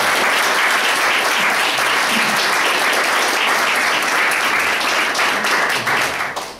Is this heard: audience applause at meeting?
yes